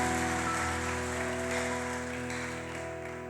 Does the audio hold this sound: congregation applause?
yes